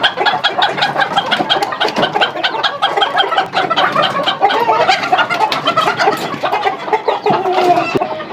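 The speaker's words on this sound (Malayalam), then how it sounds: "ഇവിടെ താരം നിൽപ്പുണ്ട് ഇത് ബ്രഹ്മയാണ്" Brahma chicken clucking steadily and close by, with other fowl calling around it in a busy poultry enclosure, dense overlapping clucks filling the whole stretch without talk.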